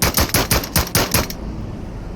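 Rapid gunfire in the VR shooter Into The Radius, about six sharp shots in a quick rhythm over roughly a second and a half, then a fading tail of room noise.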